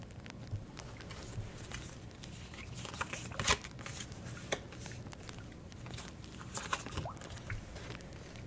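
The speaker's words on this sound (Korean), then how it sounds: "카드 오픈하겠습니다" Tarot cards slid, laid down and flipped over on a table, a soft steady patter of card handling with a few sharper slaps, faint and close.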